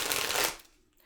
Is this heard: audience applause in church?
no